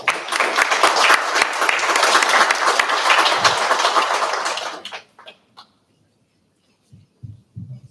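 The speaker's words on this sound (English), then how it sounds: "So let's give her a round of applause." Enthusiastic audience applause at a Sunrise Ceremony for a student performer, dense clapping for nearly five seconds before it dies off into a few scattered claps and quiet.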